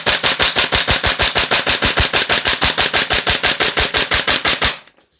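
A Noveske Ghetto Blaster MWS gas blowback airsoft rifle fed from a Marui magazine fires a long, evenly spaced string of sharp, loud, close cracks at a fast steady rhythm, then stops abruptly.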